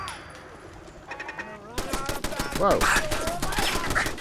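Turret gunfire in Fallout 4 erupts partway through as rapid, loud bursts of shots over a busy game soundscape, with a brief spoken exclamation mixed in.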